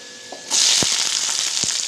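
Garlic and onion drop into hot groundnut oil with mustard seeds, setting off a loud, close sizzle that bursts on suddenly and keeps crackling, with a couple of sharp pops.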